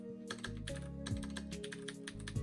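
Brisk, continuous typing on a computer keyboard, close and clear, with rapid uneven key clicks over a low hum and no talk.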